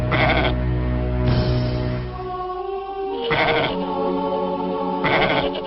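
Goats bleating in a pastoral setting, several loud, close, drawn-out wavering calls that come one after another with brief gaps, with no talk.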